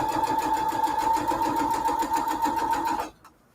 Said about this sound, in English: I'm sewing only on this layer here. This fabric.